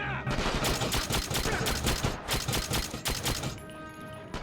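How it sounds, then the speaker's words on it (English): Dense suppressing gunfire from the PS2 video game Quantum of Solace rattles on as continuous rapid automatic bursts, loud and close, with only brief gaps. "I need suppressing fire."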